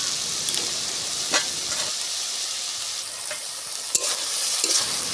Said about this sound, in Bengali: আমি এটাও মশলার সাথে ভেজে নিচ্ছি